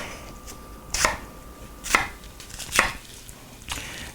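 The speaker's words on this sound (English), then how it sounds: "Let's just chop these onions up." A knife chopping onions on a cutting board for beef and barley soup, four crisp, evenly spaced chops about a second apart over quiet kitchen background.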